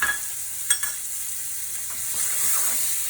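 Soft, steady sizzle of a wagyu fillet steak searing in a pan with butter, a faint continuous hiss with a brief clatter near the start.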